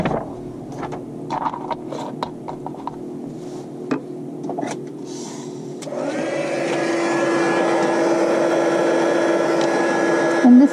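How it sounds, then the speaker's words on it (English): A heat gun switches on about six seconds in and roars steadily and loudly to the end, melting copper embossing powder sprinkled on a stamped notecard, after a stretch of quiet handling sounds. "And I'm going to heat emboss that."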